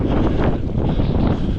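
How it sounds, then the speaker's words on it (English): Strong wind buffets the microphone on a cycling route in northern Spain in a steady, loud roar with rumbling gusts and no other sounds. "This is windy coming back"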